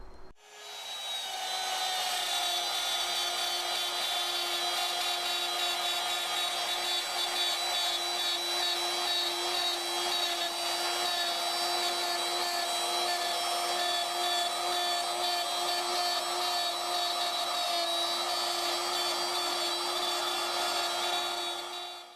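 A router cuts a dado in wood, guided along a fence, with a loud, steady high-pitched whine and grinding cut that holds for over twenty seconds without pause.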